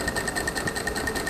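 Sewing machine stitching a zipper pouch, a close, rapid, even mechanical chatter of needle strokes running without pause for just over a second.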